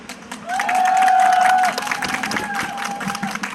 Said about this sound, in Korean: 다시 한번 큰 박수 부탁드리겠습니다.